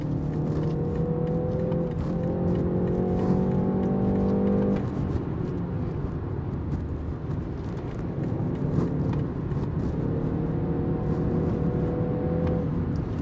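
A new BMW 3 Series engine rumbles and rises in pitch as the car accelerates, steady and close from inside the cabin, easing off midway before building again.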